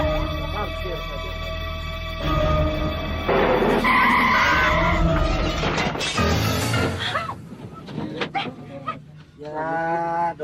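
A car brakes hard and its tires skid with a long screech, mixed with people talking and shouting, then the noise dies down before more voices.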